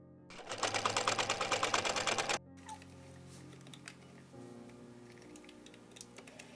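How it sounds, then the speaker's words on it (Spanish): A domestic sewing machine runs in a fast, steady burst for about two seconds, stitching the sleeve opening of a winter coat's lining, then stops, leaving faint handling noises behind. "Y termina de forrar cosiendo la abertura de la manga."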